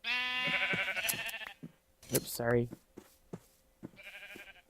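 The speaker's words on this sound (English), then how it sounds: "I might go ahead and corral some of these black sheep." Minecraft sheep, black ones among them, bleat in several wavering cries, close and loud. A speaker talks briefly between the bleats.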